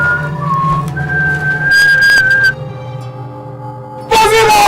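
A man whistles a bright melody in sustained high tones, with a brief pause before the tune resumes loudly at the end, over a steady low background hum.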